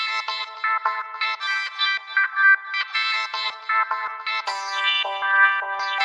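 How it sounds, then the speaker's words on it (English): Robotic, vocoded synth vocal phrases with stepped, buzzy tones in a choppy electronic dance rhythm, steady and fairly loud. "I just wanted to add some like EDM-ish kind of robotic sounding"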